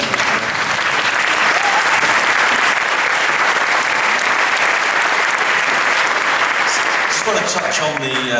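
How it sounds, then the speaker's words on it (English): An audience gives a farewell masterclass by an Almap BBDO co-founder a dense, continuous round of applause, loud and steady throughout, easing off near the end as a voice starts to speak. "Is that a little round of applause there?"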